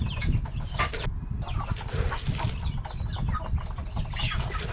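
Farm hens clucking steadily at close range, with soft repeated calls and scratchy rustling throughout, no talking.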